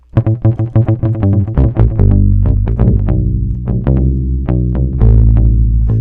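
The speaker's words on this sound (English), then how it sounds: "what I really like for funk bass is the Rickenbacker. So this guy with the palm mute is really, really dope." A palm-muted Rickenbacker funk bass patch in Logic Pro plays a punchy, rhythmic line of short plucked notes, some held longer. It is loud and close, with no voices.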